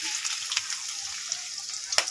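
Onions go into hot oil in a pan. They give a soft, continuous frying hiss with scattered sharp crackles and one louder pop near the end, and no one talks.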